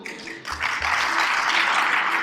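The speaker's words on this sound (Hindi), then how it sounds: "हम लोग एक बार जोरदार ताली जरूर दें" An audience at a talk breaks into loud, sustained applause that starts abruptly after a brief pause and continues as a dense wash of clapping.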